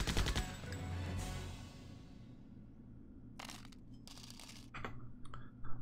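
Gunfire in the Septerra Core video game: an opening burst of shots fading into a quiet low hum, then a few short, sharp clicky bursts scattered near the end.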